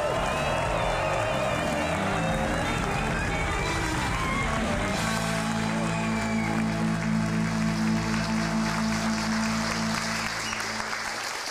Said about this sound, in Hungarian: A Sóder Klub színpadán fogadjátok hatalmas tapssal Szaír